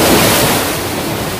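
Broad roar of Atlantic ocean waves on the shore in Portugal, loud and close, surging at the start and then settling into a steady wash, with no voices.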